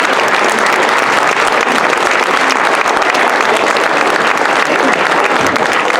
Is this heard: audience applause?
yes